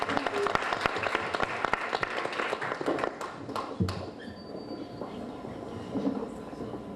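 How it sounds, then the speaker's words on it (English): Audience applause for guest speakers being introduced at an event, a dense wash of clapping that swells and then thins after a few seconds, with a little talk underneath. "Please give her a round of applause."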